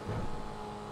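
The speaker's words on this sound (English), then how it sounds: "This car is loud" A Maibatsu Penumbra in GTA 5 Online runs with a loud, steady engine drone and a brief low rev surge at the start, with rain and outdoor noise in the background.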